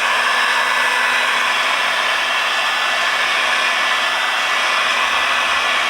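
Heat gun blowing steadily and loudly on a waxed winter boot, a continuous broadband hiss with a faint electric hum, no talking.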